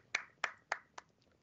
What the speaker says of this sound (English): get a little golf clap